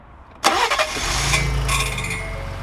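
A car engine cranks over with the starter zinging against the ring gear, a sudden loud start followed by a steady metallic whine and rumble close by; no talking.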